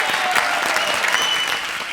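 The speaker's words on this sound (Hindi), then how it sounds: "तालियां दोस्तों." Studio audience on a Hindi comedy show bursts into loud, dense applause, a steady wall of clapping that eases slightly toward the end.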